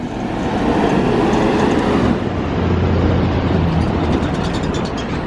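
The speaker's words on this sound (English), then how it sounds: "I think that's a little tram tour is what we do." A small tourist trolley in St. Augustine, Florida rumbles past nearby, with a steady mechanical clatter and low rolling drone that shifts partway through.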